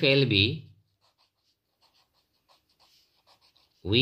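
A pen writes on paper during a grammar lesson, with soft, faint scratchy strokes in short bursts between a speaking voice at the start and end.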